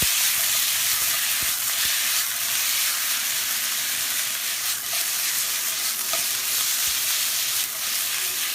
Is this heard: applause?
no